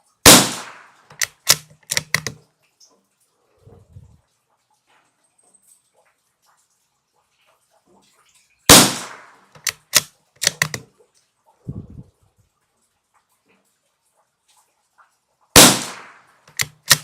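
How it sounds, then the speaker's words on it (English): An MKii FV-SR bolt-action rifle with a freshly re-crowned barrel and bedded stock fires three loud, sharp shots several seconds apart, with quieter metallic bolt clicks between them. "Well, there's our first 5 shots basically into one hole."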